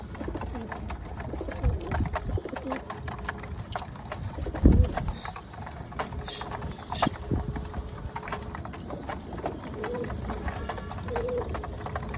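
Pigeons coo repeatedly in soft, low, throaty calls, close by, with scattered fluttering and shuffling noises and a brief thump partway through.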